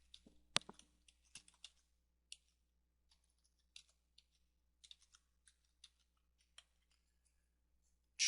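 A domain name is typed on a computer keyboard: sparse, crisp key clicks in an irregular rhythm, close and quiet against a near-silent background, with a slightly louder tap at the very end.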